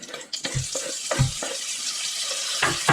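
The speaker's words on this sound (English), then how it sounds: "Now add the bacon." Bacon sizzles in a pan while sausage risotto is being made, giving a bright, watery hiss broken by several soft knocks and thuds.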